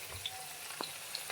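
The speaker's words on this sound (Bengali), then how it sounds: "তো পেঁয়াজটা দিয়ে দিলাম, পেঁয়াজটা দিয়ে এমনভাবে নাড়াচাড়া করব।" Onion sizzles in hot oil in a pan on the stove while being made into a homemade herbal hair oil, a quiet steady hiss with a few light stirring clicks.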